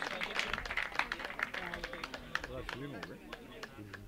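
Applause at a film premiere event for Ganesh Singh Rautela, irregular claps from a modest crowd, fairly faint, with a voice speaking over them partway through.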